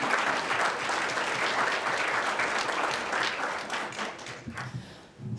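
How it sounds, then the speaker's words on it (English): An audience at a community genealogy event gives a round of applause, dense sustained clapping that fills the room and then tapers off near the end. "I'm going to ask if we can give her one more round of applause."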